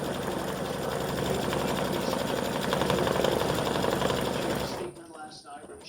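A home sewing machine runs steadily, stitching appliqué onto flip flop straps with a continuous mechanical whir and needle chatter, then stops abruptly near the end, leaving quieter rustling.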